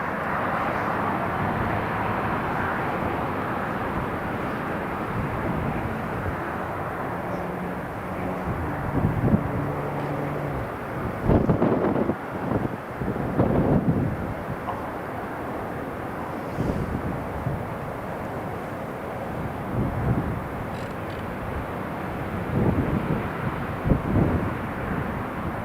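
At Newcastle International Airport, an aircraft readies for departure as a steady low engine roar and rumble builds and swells, mixed with wind buffeting the microphone from outside.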